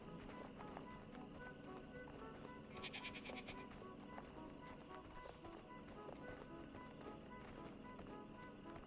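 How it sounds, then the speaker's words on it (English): A sheep bleats once, briefly, in the video game Superbrothers: Sword & Sworcery EP, set in a meadow, over a dense, steady bed of game music and ambience. "a few worthless sheep lazing around in the meadow"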